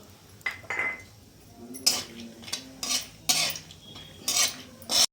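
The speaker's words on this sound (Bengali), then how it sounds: "বাদামটা এর মধ্যে হালকা করে আমি একটু ভেজে নেবো" Peanuts frying lightly in a little oil in a pan, with a series of close, brisk scraping and clinking bursts as they are stirred, separated by quiet gaps.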